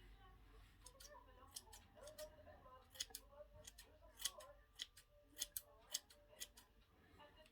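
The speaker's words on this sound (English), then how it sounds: "This here snip, snip, snip." Scissors snip through hair in a quiet run of sharp, crisp clicks, scattered at first and then coming in quicker bursts, close to the microphone.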